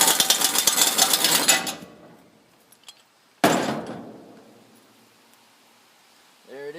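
A hammer strikes a socket to loosen the valve on an LP tank: a burst of metallic rattling and ringing, then one sharp clanging blow that decays slowly, with faint movement sounds afterward.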